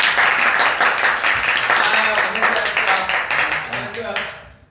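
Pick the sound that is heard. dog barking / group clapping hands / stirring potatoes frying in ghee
group clapping hands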